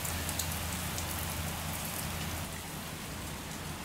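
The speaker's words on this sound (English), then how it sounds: "Got a nice little rainstorm happening here." Steady spring rain falls in a soft, even patter on surfaces outdoors, a continuous moderate hiss with no voices, shortly after a hail shower.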